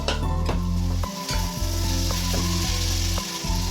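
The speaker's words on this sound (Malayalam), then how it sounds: "ഇതിലേക്ക് രണ്ട് മീഡിയം തക്കാളി ചേർത്ത് ഇതിനെ വഴുതി വരുമ്പോഴേക്കും നമുക്ക് നമ്മുടെ മസാല ചേർത്ത് ചിക്കൻ ചേർത്ത് ഇളക്കാം" Two medium tomatoes frying in a pan for chicken chukka, a steady loud sizzle with rhythmic scraping and clinking as they are stirred.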